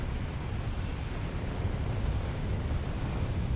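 Vehicle-mounted gun auto-firing from the gunner's seat in the factory-building game Factorio, a dense continuous roar of rapid fire running steadily and evenly throughout, fairly loud with no voices over it.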